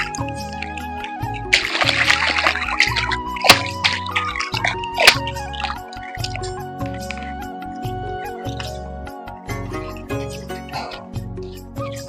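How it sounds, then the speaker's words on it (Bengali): A freshly caught cut fish being washed under tap water, with intermittent splashes, drips and sloshing close by, plus a brief burst of running water early on. "এখন আমি মাছটা ধুয়ে নিচ্ছি"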